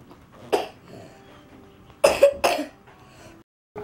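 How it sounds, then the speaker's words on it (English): A few short, harsh coughs from a young child, close by, with quiet pauses between them in a quiet room. "has a bad cough"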